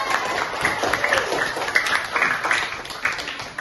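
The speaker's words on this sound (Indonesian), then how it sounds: "Kasih tepuk tangan." Classroom applause for a student called to the front: a group of children clapping in an uneven patter, fairly close, with faint voices mixed in.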